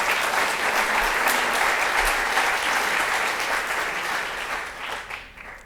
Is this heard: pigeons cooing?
no